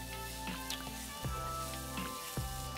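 Bell pepper and carrot hitting hot oil in a pan with onion for a vegan meat pie: steady close sizzle with a few sharp pops and stirring knocks, no talking.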